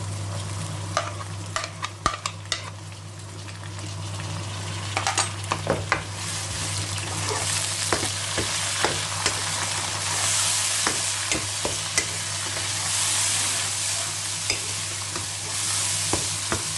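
Finely chopped tomatoes, three or four of them, fry in a little oil while being stirred, with a steady hiss under repeated close spoon scrapes and taps against the pan, moderately loud and without talking.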